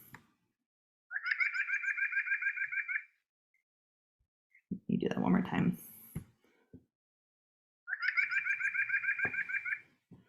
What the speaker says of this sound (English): let me play the white-breasted nuthatch and you can watch the spectrogram